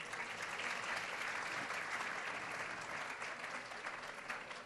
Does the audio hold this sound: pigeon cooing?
no